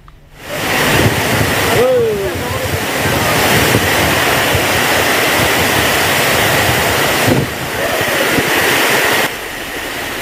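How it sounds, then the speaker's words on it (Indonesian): Heavy rain and strong wind lash Waru in Sidoarjo, East Java, making a dense, loud continuous roar with gusty buffeting of the microphone and a few brief dips. "Hujan deras dan angin kencang menerjang Kabupaten Sidoarjo, Jawa Timur."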